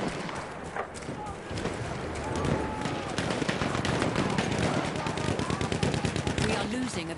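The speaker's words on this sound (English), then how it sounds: "machine gun outpost." Rapid machine gun bursts from an outpost in a Battlefield match, loud and dense, layered with other gunfire and a talking voice over the battle.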